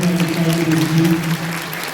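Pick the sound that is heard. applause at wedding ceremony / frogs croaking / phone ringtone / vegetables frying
applause at wedding ceremony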